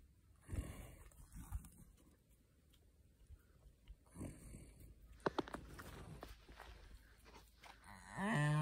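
A young calf asleep in a person's arms snores in soft, breathy rumbling bursts at uneven intervals, heard close and quiet, with a louder rustle near the end.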